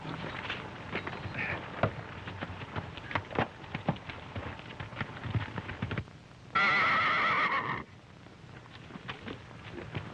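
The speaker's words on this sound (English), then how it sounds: "Hey, don't shoot that horse." A horse whinnies loudly and alone for about a second, following a stretch of clip-clopping hooves and rustling movement.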